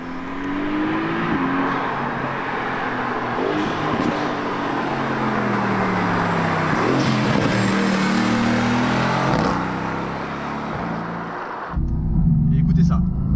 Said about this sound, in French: On entend les explosions. On entend vraiment les montées en régime.